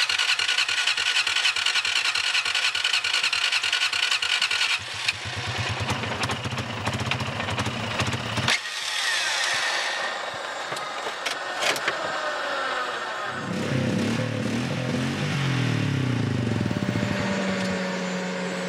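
A motorcycle engine with a carburettor set too low runs close by, its rumbling idle shifting in pitch and roughness as it is revved and adjusted, with mechanical clatter over a continuous drone.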